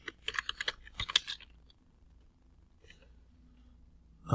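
Fingers tap rapidly on a computer keyboard in a quick flurry of close, soft keystrokes, then a long lull with only faint scattered taps.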